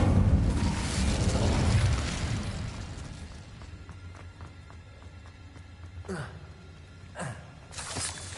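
Incendio fire spell cast in the video game Hogwarts Legacy, a loud burst of roaring flame and crackle that fades over a couple of seconds, followed by quieter whooshes and impacts.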